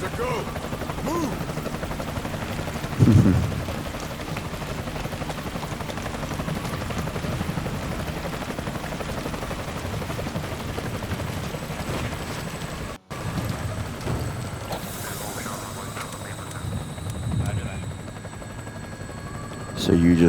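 Military helicopter in Metal Gear Solid V: Ground Zeroes, a steady rotor drone throughout with rain-like hiss and brief thuds, voices faint underneath.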